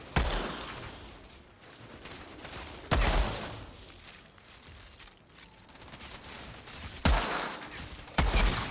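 Gunfire in the video game Outriders: several sharp bursts of shots crack out loudly at irregular intervals, with quieter rumbling between volleys.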